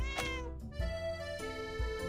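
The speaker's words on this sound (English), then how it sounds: "a stray cat in her arm" A stray cat meows near a weathered little home with vines on the roof, a clear drawn-out cry followed by shorter mews, close and alone.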